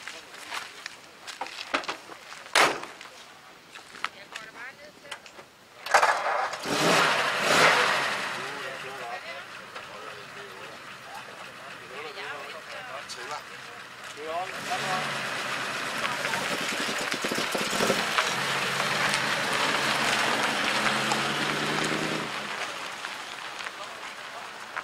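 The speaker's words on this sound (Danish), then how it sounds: "Men du kan prøve at høre motoren" An old bus engine at an open-air museum village cranks and starts, then settles into a steady, rumbling idle, while people talk nearby throughout.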